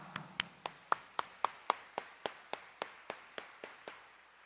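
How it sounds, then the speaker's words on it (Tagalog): A Mass congregation at Quiapo Church claps in a steady rhythm, about sixteen even beats close together, with no voices over it. "parinig nga natin sa Kanya ang ating mas malakas na palakpak"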